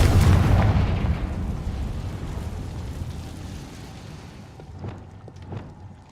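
In the Hogwarts Legacy video game, a Confringo spell explosion booms loud at the start, then rumbles and decays over several seconds, with a few faint clicks near the end.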